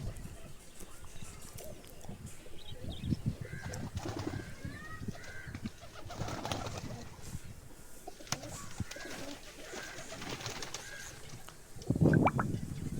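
Pigeons coo softly and repeatedly inside a nesting loft, a close, low murmur of calls layered over quiet rustling, with a louder burst of wing flutter or movement near the end.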